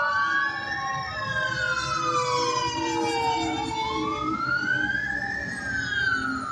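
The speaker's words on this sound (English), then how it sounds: "y'all sure love your ambulances around here." A wailing ambulance siren in Austin rises and falls in long sweeps, loud and steady, with traffic rumble beneath and no talking.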